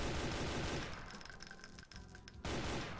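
Rapid chaingun fire from a chaingunner enemy in a Doom-style game, a burst of quick mechanical shots rattling for about a second and a half amid loud game noise, with no talking.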